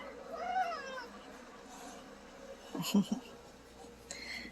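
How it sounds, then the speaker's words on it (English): A cat meows a couple of times indoors, moderately close, with faint shuffling and room noise in between and no clear speech. "It's just a funny cat."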